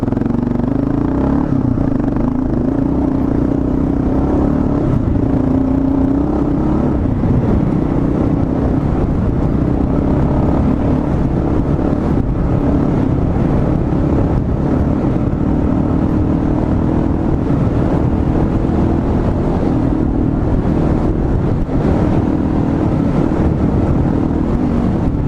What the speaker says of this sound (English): I thought I'd bring it over here and ride it off-road here a little bit and